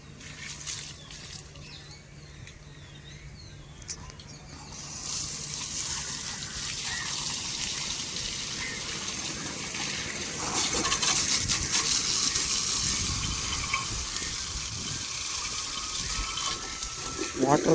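Water runs steadily from a tap outdoors, a continuous gushing hiss that grows a little louder partway through, with faint voices in the background.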